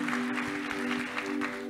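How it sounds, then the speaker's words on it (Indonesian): Church congregation clapping together during a worship service, a brief burst of steady applause with sustained musical tones beneath it. "kita boleh berikan tepuk tangan bagi Tuhan kita sore hari ini"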